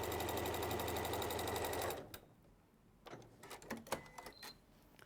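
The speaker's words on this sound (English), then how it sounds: "So I'm just machining across." A sewing machine stitches across a seam with a loud, steady motor whir for about two seconds, then stops, leaving light clicks and handling noises.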